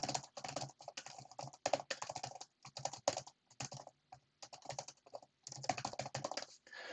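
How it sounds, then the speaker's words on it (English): Typing on a computer keyboard while writing text in an R Markdown document, with rapid clicking bursts separated by short pauses, close and fairly quiet with no talking. "So here I've typed some text,"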